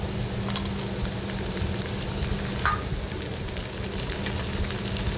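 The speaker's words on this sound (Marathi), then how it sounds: "आता हे सगळं परतून घ्यायचं टोमॅटो मऊ होईपर्यंत" Tomatoes and onion sautéing together in a pan for a Marathi cabbage masala, giving a steady, even hiss of soft sizzling that runs unbroken throughout, with a low hum underneath and no voices.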